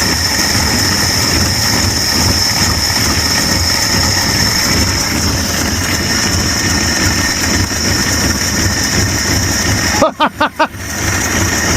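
An old Dodge Viper engine runs steadily on its own fuel after sitting for years, a continuous rumbling drone with a high whine on top, ending in a few sharp sputters near the end.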